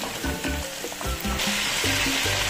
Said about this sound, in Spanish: una vez que el aceite esté fuerte, lo bajamos un poquito para que se vaya friendo parejo y lentamente